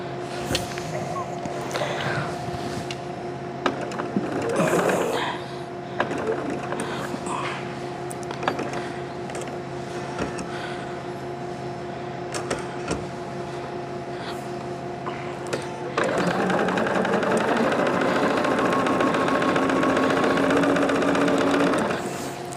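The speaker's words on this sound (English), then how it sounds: "it feels like the machine is trying to pull my fabric through" A sewing machine stitches quilt fabric for a color burst throw, a steady mechanical whir running throughout and growing louder and busier in the last few seconds.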